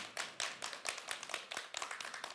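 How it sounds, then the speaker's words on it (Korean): A small audience gives a short burst of applause at a health lecture, a handful of people clapping in a quick, uneven rhythm, fairly close and moderately loud. "오늘 나오신 두 분도 박수 한번"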